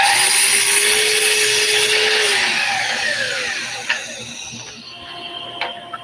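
A power saw whines loudly through a wooden board in a workshop, a steady high cut that winds down, followed by a few lighter knocks of wood being handled.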